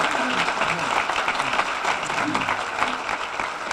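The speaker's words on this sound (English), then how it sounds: "please join me in a round of applause" Steady applause from a crowd at a university brunch event, a dense wash of clapping that holds evenly throughout without pause.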